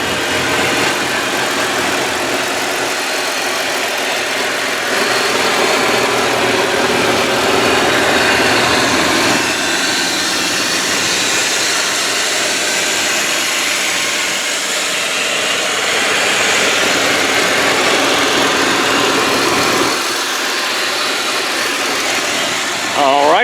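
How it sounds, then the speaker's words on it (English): A 2004 Kia Amanti's V6 engine runs steadily at idle with a broadband hum, heard from close by for the whole stretch, while a voice speaks faintly in the background. "so it's a V6 motor"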